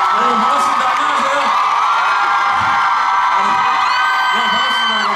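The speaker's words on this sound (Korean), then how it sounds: "여러분, 큰 박수 부탁드립니다" A crowd at an outdoor stage of an Asian traditional performing-arts festival in Siheung's Okgu Park cheers and whoops in a steady, dense roar that lasts throughout, with voices shouting over it.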